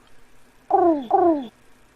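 A man imitating a pigeon's cooing with his voice, two rounded, warbling coos in quick succession, close and fairly loud against a quiet background.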